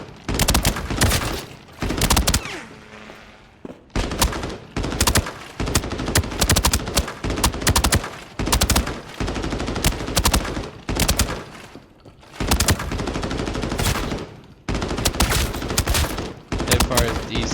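Assault rifle hip fire in Arena Breakout, loud rapid automatic bursts separated by short gaps, repeating over and over, close and dominant with no voices over them.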